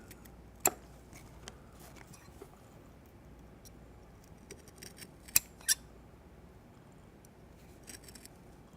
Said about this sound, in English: I will use a shears